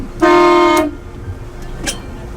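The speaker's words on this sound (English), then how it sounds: "Cool, so that is our horn." Horn on a dolphin and whale watching boat: one loud, steady blast lasting about half a second, heard close up, followed by a faint shorter tone and a quiet hum of background noise.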